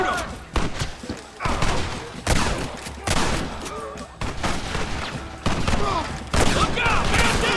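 A shootout in the Xbox 360 game Red Dead Redemption: loud volleys of gunshots come in several heavy bursts with booming thuds between, close and punchy, and no talk over them.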